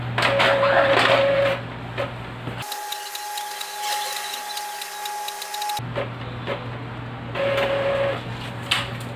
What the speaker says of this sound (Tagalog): working pa rin ang Noco Print app na ginamit natin pang print dito sa ating Epson L3210